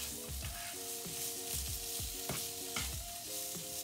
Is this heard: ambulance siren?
no